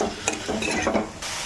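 Tender pumpkin stalks fried with spices in a pan, a close sizzle broken by several quick scraping stirs of the spatula, no voices.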